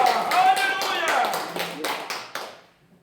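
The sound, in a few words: congregation clapping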